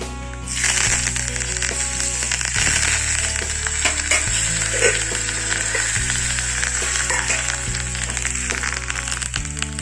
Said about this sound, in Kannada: ಒಗ್ಗರಣೆ ಹಾಕ್ತಾ ಇದ್ದೀನಿ ಇಂಗು ಅಂತೂ ಹಾಕಲೇಬೇಕು